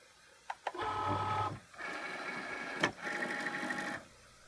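A Cricut Maker cutting machine whirs as it draws the mat in, with a few faint clicks and then two motor runs of about a second each, separated by a short click.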